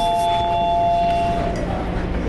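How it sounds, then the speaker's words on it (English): An electronic doorbell chime rings out at the start of a coworking space in Makati, Philippines, a clear sustained tone that fades within a second or so amid background noise and murmured voices. "maybe I should like ring the doorbell to try to get somebody's attention"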